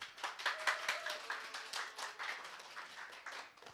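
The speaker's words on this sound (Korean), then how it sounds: "박수!" Applause and clapping from a church youth group during a Sunday worship service as a new friend is welcomed, a steady patter of many hands lasting several seconds with a faint tone and slight voice underneath.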